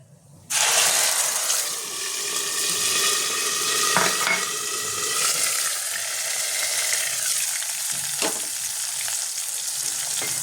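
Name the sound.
dried chillies and cumin sizzling in hot oil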